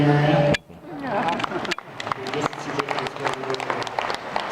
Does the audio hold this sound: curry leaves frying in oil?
no